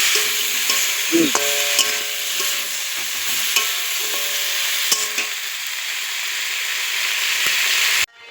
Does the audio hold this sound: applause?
no